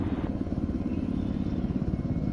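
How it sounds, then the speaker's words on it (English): Steady low engine rumble mixed with wind noise from a vehicle in the Arma 3 military shooter game, continuous and fairly quiet throughout, with no voices. "I don't know how you could hear that over the sound of the engine and the wind"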